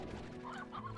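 Chickens in the Slime Rancher game clucking in a brief, fairly quiet burst of short fowl calls with no talk.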